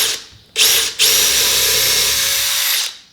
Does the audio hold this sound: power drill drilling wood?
yes